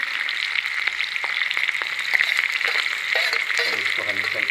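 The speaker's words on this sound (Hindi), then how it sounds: "अपन हरी मिर्च और प्याज जो है वो डाल देंगे" Green chilies and onion fry in hot oil with cumin for drumstick flower sabzi, making a continuous, close, hissing sizzle with light stirring scrapes throughout.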